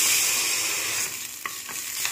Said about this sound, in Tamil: இப்போ நான் தாளிச்சு கொட்ட போகிறேன்.